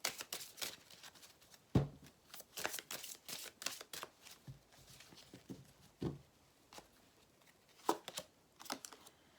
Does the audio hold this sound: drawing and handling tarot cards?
yes